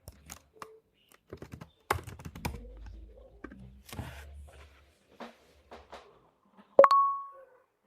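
Irregular keyboard typing on a computer keyboard, clicks fast then sparse, close and moderately quiet, ending in a short bright electronic beep.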